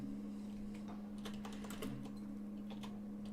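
A tweet typed on a computer keyboard: quick, irregular bursts of faint, close key clicks over a low steady hum.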